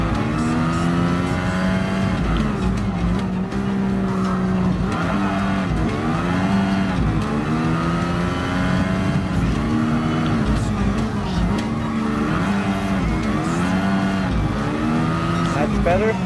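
Ayrton Senna's Lotus 97T race car in Gran Turismo Sport screams loud and close at Interlagos, its engine pitch rising and falling through repeated gear changes and corners for the whole stretch, with a voice talking over it.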